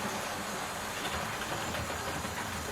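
A Hornby Patriot class model locomotive, R3154 E C Trench, runs on its track with a steady, close mechanical whir and hiss, unbroken and even.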